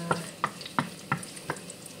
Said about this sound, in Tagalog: Ayan, mainit na yung mantika. Ayan yung luya guys.